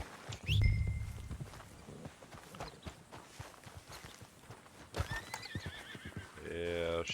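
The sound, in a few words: horse neighing and hooves, from a video game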